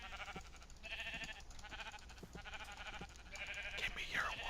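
Sheep bleating in the video game Aether II: a run of wavering, mid-loud bleats over a steady game-ambience bed, with a higher, sliding cry near the end.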